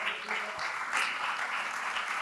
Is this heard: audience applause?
yes